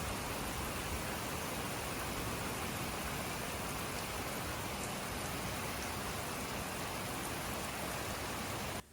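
Steady, dense rain pours down throughout, a constant hiss of drops hitting surfaces close by, ending abruptly.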